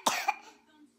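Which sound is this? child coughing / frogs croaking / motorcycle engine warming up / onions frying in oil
child coughing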